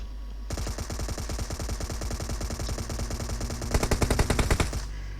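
Sustained automatic gunfire in the video game PUBG, a long rapid burst of shots lasting several seconds, loud and close, growing sharper toward the end before cutting off.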